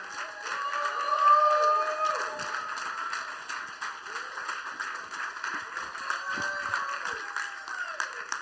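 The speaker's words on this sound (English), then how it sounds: "let's give them one more round of applause for Rich and Monica Claypool" A conference audience applauds in a hall, with steady, dense clapping sustained throughout, mixed with scattered cheers and voices.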